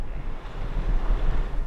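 Water of the Msta River, a white-water rafting river in the Novgorod Region, rushing and washing steadily with a broad, wind-blown roar, close and fairly loud with no talk.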